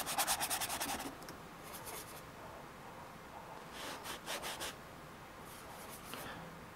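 A paintbrush scrubs oil paint onto canvas in soft, rhythmic bursts of rapid back-and-forth rubbing, separated by short pauses. The sound is faint and close.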